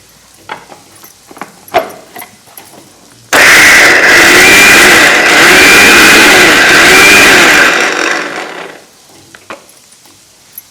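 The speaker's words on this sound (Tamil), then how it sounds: "மிக்ஸி ஜாரில் ஃபஸ்ட்டு தண்ணி ஊற்றாமல் லைட்டாக அரைச்சி எடுத்துக்கணும்" A mixer grinder grinding sweet corn without water starts abruptly and whirs loudly for about five seconds, then winds down, with faint clicks and handling noises before and after.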